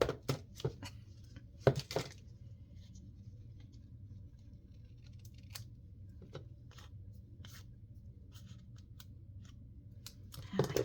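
Scissors snip through a paper pocket tag in a quiet craft room, a few close, crisp cuts near the start and scattered lighter snips and rustles later over a low steady background hum.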